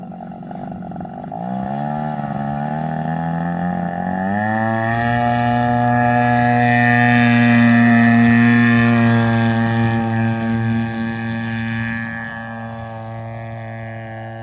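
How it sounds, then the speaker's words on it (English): A quarter-scale scratch-built T-34 model airplane with fiberglass fuselage and wooden structure flies past, its engine drone rising in pitch and loudness to a peak mid-pass, then fading away as it departs. "Again, Chris O'Connor flying his Mark Frankel designed T-34, which he scratch built."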